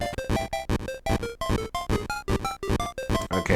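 Wario walking back and forth in the Game Boy Color game Wario Land II, heard as loud, busy chiptune game sound with rapid repeated bleepy bursts in a quick steady rhythm.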